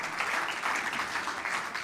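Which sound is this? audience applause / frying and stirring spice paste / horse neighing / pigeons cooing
audience applause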